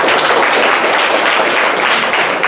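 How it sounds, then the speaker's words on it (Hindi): An audience at a general knowledge quiz competition applauds a winner, a loud, dense and steady roar of clapping with no pauses. "सेकंड विजेता"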